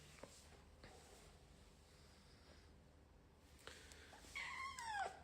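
A domestic cat gives a single drawn-out meow near the end after a few seconds of quiet room sound. The meow is close but fairly soft, with faint shuffling before it.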